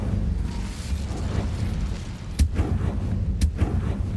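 Incendio fire spell cast in a fantasy wizarding video game: a low rumbling whoosh of flame with two sharp bursts near the end, loud and close over continuous game ambience.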